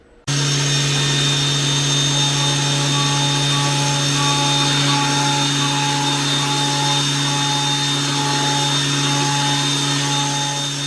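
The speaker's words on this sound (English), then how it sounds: "we gotta take just a second and appreciate the milling here. We are cutting through to the other side" A CNC milling machine cutting through a steel putter plate for a tour-card putter makes a loud, steady whine with sustained tonal ringing that holds without a break, alone and close.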